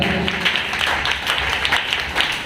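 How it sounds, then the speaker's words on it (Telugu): Church congregation clapping loudly, a dense burst of many hands with some rhythmic peaks, close and sustained briefly without talk. "ఈసారి గట్టిగా చప్పట్లు కొట్టున్నాను"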